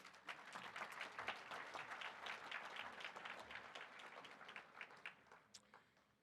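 An audience at a SUMA municipal convention applauds, producing a sustained patter of many hands that sounds faint and distant before tapering off near the end.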